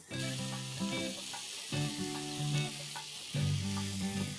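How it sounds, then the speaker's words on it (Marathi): Two medium-sized onions dropped into hot oil, a loud, dense, close sizzle with crackling bursts that swell and ease in waves, alone with no talk. "तेल तापलंय, आता ह्यात मी घालणार आहे 2 कांदे"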